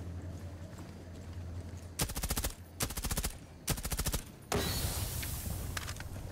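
Three bursts of rapid automatic gunfire in Rainbow Six Siege, each lasting under a second with short gaps, followed by a louder sustained blast or explosion over low game ambience.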